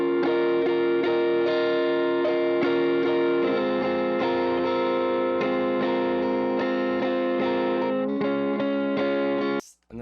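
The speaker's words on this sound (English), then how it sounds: "have this lead, it's sort of jumping around using intervals on the second and third string." A lead electric guitar jumps between intervals on the second and third strings, with light distortion, in quick, evenly spaced plucked notes that stop abruptly just before the end.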